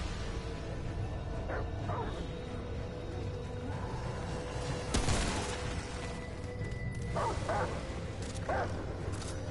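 A companion dog barks in the video game Remnant: From The Ashes, a few short, faint barks and yips spread across a constant background of combat noise, with one louder blast in the middle.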